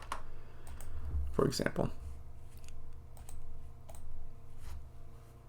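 Typing on a computer keyboard, quiet scattered key clicks in short bursts while someone talks briefly over them.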